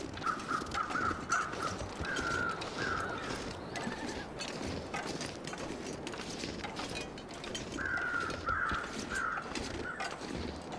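Corpse birds, in-game crows in the survival game The Long Dark, caw in repeated bursts at a moderate distance over a steady wind-like ambient bed, with a pause mid-clip before another run of calls.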